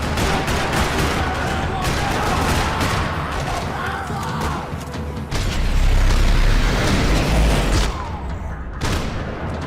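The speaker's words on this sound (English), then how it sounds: "Another parking lot rattling with gunfire." Rapid gunfire rattles through a parking lot in the video game Max Payne 3: dense, overlapping bursts of shots and booms, loud and continuous for the whole stretch, with a heavier rumbling surge midway.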